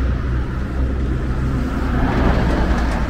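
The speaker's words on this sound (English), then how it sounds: "The cars are loud" Loud road traffic near a bridge in Uji, Kyoto, a continuous low rumble of passing cars close by with no voices.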